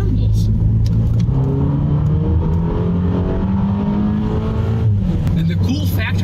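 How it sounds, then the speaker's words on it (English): A second-generation Audi TT drives along a back road, its engine droning steadily close up with harmonics rising and falling as it accelerates and eases off, plus constant road and tyre rumble throughout. "now we're on the back road, and let's see how this car handles"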